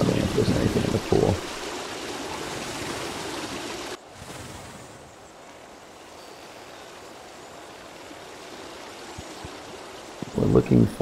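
Rushing waterfall water in the video game Outer Orbs, loud at first, then cut abruptly to a quieter, thinner wash that carries on steadily, with brief bursts of voice at the start and end.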